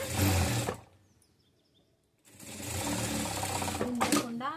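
Sewing machine stitching a blouse back neck, a steady fast mechanical whir in two runs separated by a near-silent pause, close and clear while a person talks.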